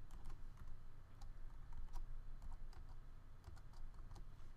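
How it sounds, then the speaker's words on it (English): Quick, light clicks from typing on a computer keyboard, a short burst of keystrokes heard close up over a steady background hiss. "so I'm just going to type blinkMe"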